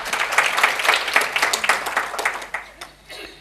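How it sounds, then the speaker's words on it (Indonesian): A church congregation breaks into scattered clapping at a sermon, a run of distinct hand claps that thins out and fades toward the end, moderately quiet. "Tepuk tangan. Haleluya."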